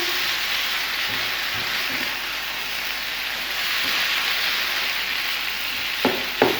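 Cooked chicken with spices fries and is stirred in a pan, a steady bright sizzle throughout with a few soft scraping stirs and a clunk near the end.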